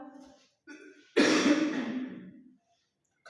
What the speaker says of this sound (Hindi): खांसी बहुत ज्यादा होगी